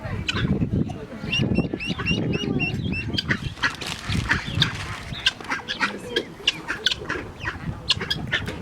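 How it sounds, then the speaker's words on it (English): Ducks quacking at a winery, a busy flock of repeated nasal quacks and clucks close by, with someone talking over them. "It's like quack, quack, quack, quack."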